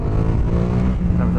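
Yamaha MT-07 motorcycle engine revving hard during a wheelie attempt, a loud, close, continuous throaty drone.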